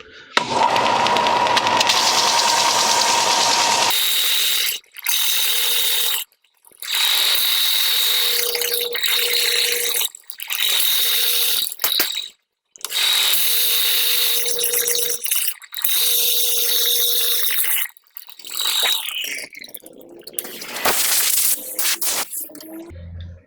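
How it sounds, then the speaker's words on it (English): Belt sander smoothing the unfinished bottoms and tops of cast resin armor pieces for forearm armor, a steady loud motor whine running in repeated bursts separated by brief pauses, alone without talk. "this is where the belt sander comes in handy again"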